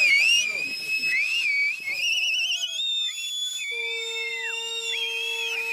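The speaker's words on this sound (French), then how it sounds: "Allez, sifflez un coup là." Several people whistle together, high warbling and sliding tones overlapping, with one long steady whistle held near the end; faint chatter underneath early on.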